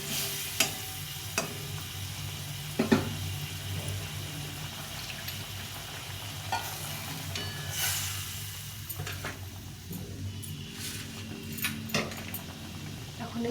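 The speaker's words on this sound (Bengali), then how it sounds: "এখন এর মধ্যে এই পোস্ত বাটাটা দিয়ে দিবি। জল দিয়ে ভালো করে ফুটিয়ে নেব।" Poppy seed paste and ridge gourd cooking in a pan with water, a steady sizzle and bubbling throughout with occasional clinks and scrapes of stirring, close up.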